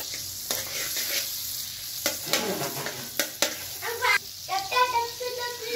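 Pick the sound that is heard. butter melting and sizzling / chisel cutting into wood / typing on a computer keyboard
butter melting and sizzling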